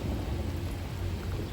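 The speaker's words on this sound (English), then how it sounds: "she's starting to rain now." Rain falls outdoors beside a railway line as a steady, even patter with a low rumbling wash underneath, continuous and moderately faint with no voices.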